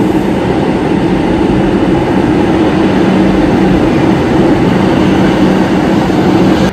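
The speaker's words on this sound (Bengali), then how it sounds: "নতুন মেট্রো কোথা থেকে আসছে" A Kolkata metro train pulls in at Airport station on the Noapara–Airport line, a loud, continuous rumble of wheels and motors that holds steady throughout.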